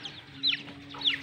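Light Brahma chickens cluck softly up close, two short chirpy calls over a faint steady hum.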